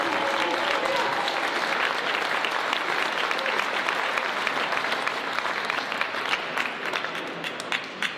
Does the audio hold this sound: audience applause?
yes